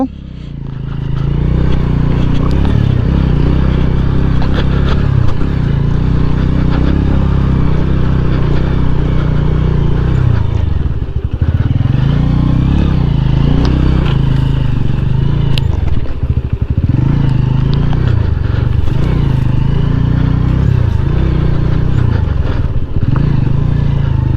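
A motorcycle engine roars steadily and loudly throughout, its pitch rising and falling as the rider speeds up and eases off.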